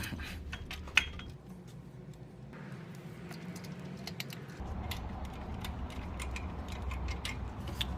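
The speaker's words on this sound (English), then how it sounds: "That bolt is a 12 socket. Just gonna loosen that up, and then we'll take it out." A 12 mm socket wrench loosening a bolt on a 2001-17 Honda CR-V 2.4L engine, heard as close, quiet ratcheting clicks and ticks in irregular runs.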